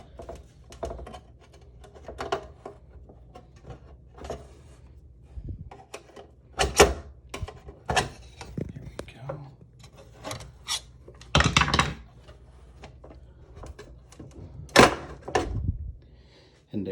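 A flathead screwdriver pries a Broan 688 bathroom exhaust fan motor out of its housing, making irregular scraping, rasping and sharp plastic clicks and knocks in scattered bursts. The sounds are close and there is no talking.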